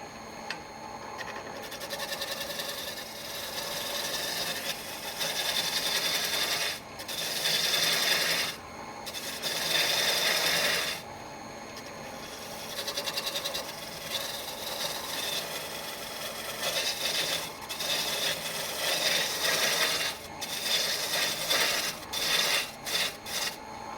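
A wood rasp files a wooden mallet handle to taper it, in bursts of harsh scraping strokes, some long and sustained, others short and quick, with brief pauses between.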